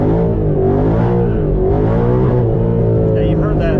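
A 2014 Ford Mustang GT Track Pack V8 engine roars loud and close with a deep, steady rumble, holding high revs near 7,800 RPM throughout with a voice faintly underneath.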